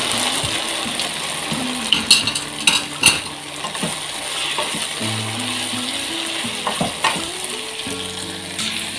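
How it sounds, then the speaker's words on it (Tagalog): Bitter gourd sautéed with onion, garlic and tomato in a pan: steady loud sizzling and frying hiss with a spatula scraping and clinking now and then, close up and without talk. "Lagyan na natin yung ampalaya."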